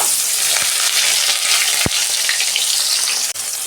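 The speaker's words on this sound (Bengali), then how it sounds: "তেল দিয়েছি, মাছটা আমি ভেজে নিচ্ছি।" Parshe fish fry in hot oil with a loud, continuous close-up sizzle, a couple of sharp clicks or taps cutting through near the middle and end.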